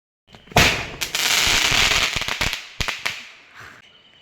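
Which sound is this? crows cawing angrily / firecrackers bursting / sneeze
firecrackers bursting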